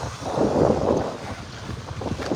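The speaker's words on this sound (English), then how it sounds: "Very windy, man." Strong wind buffeting the microphone outdoors at a hospital compound in New Amsterdam, Berbice, a loud rumbling roar that swells and eases over a couple of seconds with no voices.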